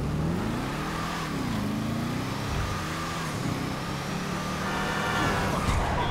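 A Declasse Impaler LX car drives in the video game GTA V, its engine humming and revving up and down continuously at close range with no talk.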